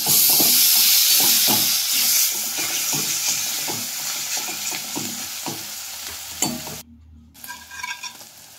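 Garlic paste frying with browned onions for chicken kosha, a loud steady sizzle broken by repeated scraping stirs. Near the end the sound cuts out briefly and returns quieter.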